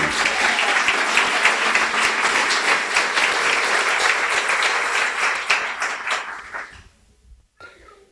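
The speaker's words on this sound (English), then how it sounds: "a warm round of applause for Jolene." An audience at a guide dog school's class graduation ceremony gives a warm round of applause, a full, steady wash of clapping from many hands that tapers off and fades into quiet near the end.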